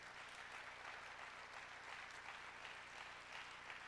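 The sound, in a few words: audience applause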